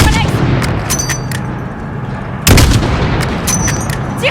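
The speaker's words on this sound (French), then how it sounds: "Tire sur le pick-up! Tout de suite! Vise le conducteur! Tire, Alex! Tire! Tire encore!" Gunfire rings out in the Call of Duty video game as shots hit a pickup truck: repeated loud cracks and booms, one heavy blast midway, over combat noise and shouted voices.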